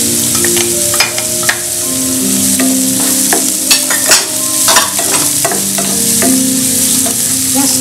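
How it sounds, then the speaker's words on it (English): Chilies hit a hot pan for prawn masala and sizzle loudly and continuously, with sharp spoon-and-pan clinks and scrapes scattered through the frying hiss, close up and without any talk. "Adding in the chilies."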